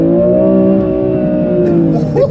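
A BMW M2 Competition engine held high in its rev range, giving a loud, steady, close drone with strong layered harmonics that hold for the whole stretch.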